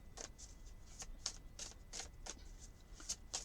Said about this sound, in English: So let's randomly choose 2 cards.